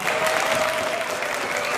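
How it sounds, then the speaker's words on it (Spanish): Brief, steady applause fills the Slovak parliament chamber after a no-confidence vote brings down the coalition government, heard as dense, even clapping from many hands. "El resultado de la votación en el Parlamento el jueves fue recibido con aplausos."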